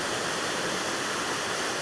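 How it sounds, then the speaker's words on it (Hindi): The Ramganga river in the Almora area of Uttarakhand gives off a continuous, even rush of flowing water, a dense broadband roar that stays close and steady throughout. "और ये रामगंगा नदी है, इसके किनारे अनेक तीर्थ स्थल मंदिर हैं।"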